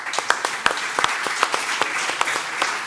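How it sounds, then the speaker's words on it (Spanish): A studio audience on a Spanish TV talk show applauds steadily, a moderately loud wash of many hands with a few sharper individual claps standing out. "estos aplausos de todos nuestros amigos que están hoy aquí"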